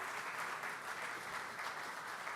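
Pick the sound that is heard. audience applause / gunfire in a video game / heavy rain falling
audience applause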